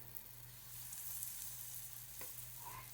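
Zucchini fritter batter sizzles and crackles steadily in a hot frying pan, a continuous frying hiss with a faint low hum underneath; no one speaks.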